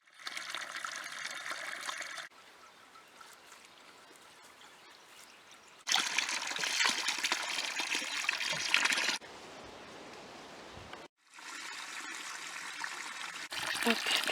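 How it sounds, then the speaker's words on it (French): Water pouring into plastic jerrycans outdoors, a steady rushing trickle that comes in several loud bursts separated by quieter gaps, with brief pauses between fills. "On va pouvoir remplir un petit peu les bidons."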